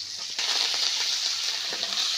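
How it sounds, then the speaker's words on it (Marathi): Curry leaves and turmeric are tempered in hot oil for a village-style moong dal, giving a loud, steady hiss that jumps up sharply as the leaves hit the oil and then keeps crackling without pause. "ही फोडणी द्यायचं काम चालू आहे बघा आजींचं"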